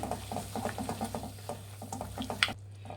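Grated raw mango cooking in oil in a pan with jaggery, giving a soft, steady sizzle with repeated light scraping and stirring taps, close and fairly quiet, and no voices.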